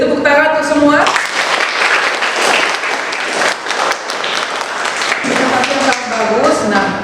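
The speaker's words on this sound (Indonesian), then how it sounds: "beri tepuk tangan untuk semua." A class applauds together in a teaching session, a loud, dense burst of clapping lasting several seconds, with a teacher's voice heard at the start and again near the end.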